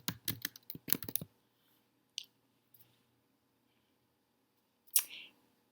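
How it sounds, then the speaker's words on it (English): Keys on a computer keyboard clatter in a quick run of taps as a book title is typed into a library search box, then fall silent, with a few isolated clicks and a brief soft burst near the end. "And now type in the title of the book you would like."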